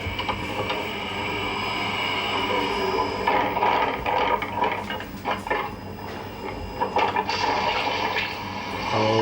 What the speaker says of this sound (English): Now, if you wait, talking about the water coming in, coming in, coming in.